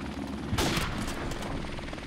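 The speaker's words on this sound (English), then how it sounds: "Enemy helicopter" Enemy helicopter in the video game Modern Warfare Remastered, a steady rotor-and-engine drone filling the background with a sharp burst of gunfire-like noise near the middle, continuing loud and dense throughout.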